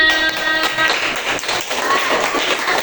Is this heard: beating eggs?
no